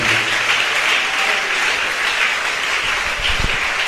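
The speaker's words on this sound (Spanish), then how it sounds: "Denle aplausos al Señor con todo el corazón." A church congregation breaks into loud, sustained clapping during a sermon, filling the room evenly for several seconds.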